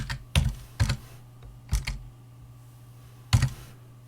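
Typing on a computer keyboard, a few separate bursts of quick, close key clicks with short quiet gaps between them, no talking.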